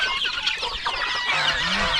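Chickens cluck close by in a farmyard alongside turkey, duck and chicken chicks, a busy overlapping stream of clucks and peeps with no talking.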